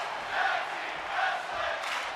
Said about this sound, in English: the crowd loving this right here